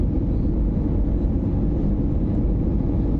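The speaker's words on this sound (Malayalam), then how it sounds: "ഇതാ നമ്മുടെ ഫ്ലൈറ്റ് ഏകദേശം ലാൻഡ് ചെയ്യാറായിരിക്കുന്നു" A steady, even drone of an airplane cabin on landing approach to Christchurch, New Zealand, hums throughout, low and constant with no voices.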